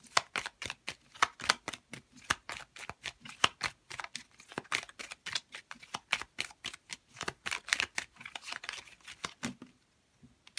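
Playing cards shuffled and handled from a deck, a long run of quick crisp riffling snaps and flicks in uneven bursts, close and clear, stopping near the end.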